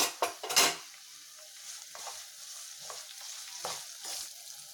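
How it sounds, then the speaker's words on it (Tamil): Small onions and garlic sizzle in hot oil as chopped tomato goes into the pan and is stirred, with steady frying hiss, a few sharp spoon-on-pan scrapes and clinks, nearby and without talk. "இப்போ தக்காளி கொஞ்சம் போட்டு வதக்கிக்கிறேன்."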